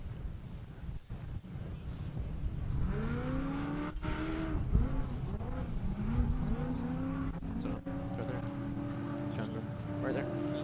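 Off-road race cars roar away from the start line side by side at the 2019 4WP Every Man Challenge, engines revving and pitch climbing as they accelerate, with commentators talking over the noise.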